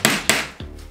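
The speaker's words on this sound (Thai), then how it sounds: "เราก็นำตะปูนะครับมาตอกเอาไว" A hammer drives a nail into a wooden board for a homemade rotating disc: two sharp, loud strikes in quick succession, then a softer third tap, close and dry.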